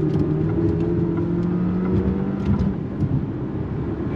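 A 2024 Dodge Hornet R/T compact sport SUV engine pulls steadily under throttle, a loud continuous drone with a rising tone heard from inside the cabin, alone without talk.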